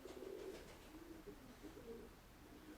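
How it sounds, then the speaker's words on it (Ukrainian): A male pigeon coos in low, soft, rolling phrases, repeated a few times nearby over faint background noise. "Ну, голуб такий. Моцний голуб, я вам скажу."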